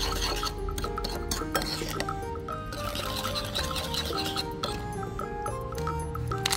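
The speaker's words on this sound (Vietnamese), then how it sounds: "Mình sẽ khuấy đều lên." A utensil stirs an egg yolk mixture in a bowl, making continuous clinking and scraping against the bowl over background music, close and steady.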